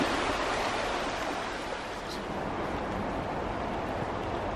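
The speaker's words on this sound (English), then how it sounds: "it breaks up into what seems like maybe a dozen little creeks all around it." A broad, steady rush of water from a dozen small creeks branching along trail waterways, continuous and fairly close, with no voices.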